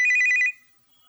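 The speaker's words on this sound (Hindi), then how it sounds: "तभी सार्थक को फोन आया।" A telephone rings late at night with one loud, trilling electronic burst that cuts off abruptly into silence.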